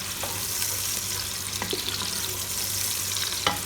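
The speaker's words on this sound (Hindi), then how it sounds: "प्याज को हमने थोड़ा सा लाइट गोल्डन ब्राउन करना है।" Sliced onions frying in a pot for shaljam palak gosht, a steady broad sizzle with occasional scrapes and clinks of stirring, close and moderately loud, no voices.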